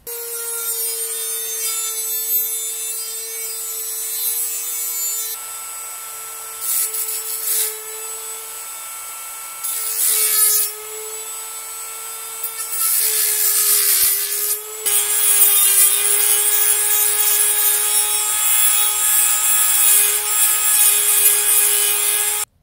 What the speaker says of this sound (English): I'll grind that down a little bit with the Dremel.